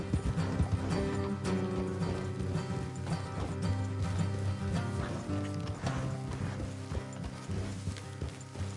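Horses travelling along a road, a steady run of hooves clip-clopping with an occasional neigh, heard over a dense, continuous musical background with no talk.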